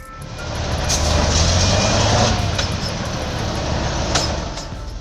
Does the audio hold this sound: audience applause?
no